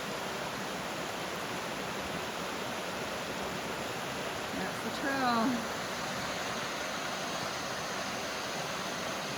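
A steady broadband rush of a river flows near Laurel Falls on a forest trail, with a brief spoken remark rising over the water midway.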